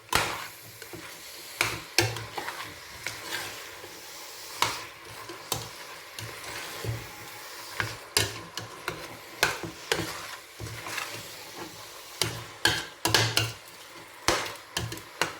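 Leafy vegetables (ndunda, biteku teku) with spices are stirred in a frying pan, repeated scraping and clattering strokes at irregular intervals over a soft, constant sizzle.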